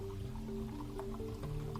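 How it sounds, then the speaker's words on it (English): Water poured from a small bottle into a glass beside a Drinkmate OmniFizz sparkling water maker, a steady close filling stream with a rising tone and light splashing, running for about two seconds. "I'm going to pour myself some water here."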